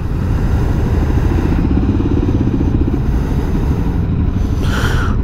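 Suzuki DRZ 400 Supermoto single-cylinder engine running steadily and loud, close up, with a rough continuous thrum and no speech.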